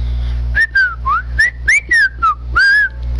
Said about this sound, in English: I'm too loud to be whistling in the mic